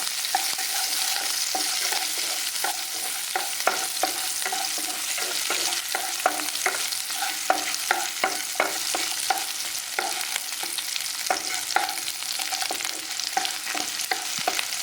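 Onions frying in a pan for chutney, a steady bright sizzle broken by repeated scraping and stirring clicks from a utensil, close and continuous with no voices.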